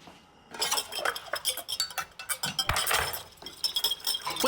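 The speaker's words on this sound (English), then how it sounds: "Go ahead and whisk this together" Whisk rapidly clinking against a bowl while mixing vinaigrette, a quick irregular metallic rattle with short bursts and pauses, close and fairly quiet.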